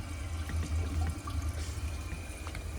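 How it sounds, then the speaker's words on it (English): A 1983 Gerber Mt Vernon toilet flushing, a steady moderate rush and gurgle of water through the bowl, heard alone without talk. "I'm going to try to give it another flush, actually."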